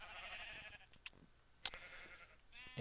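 Sheep bleating in the Minecraft video game, a few short wavering bleats heard faintly and close, separated by quiet gaps, alone without talk.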